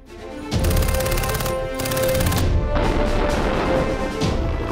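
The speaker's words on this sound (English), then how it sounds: "Shooting exercises." Rapid bursts of gunfire at a military shooting exercise during a defence exhibition in Bahrain, loud sustained volleys broken by brief pauses, with dense repeated reports throughout.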